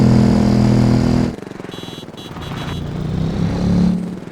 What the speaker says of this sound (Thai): แต่เสียงท่อไม่ค่อยสมจริงว่ะ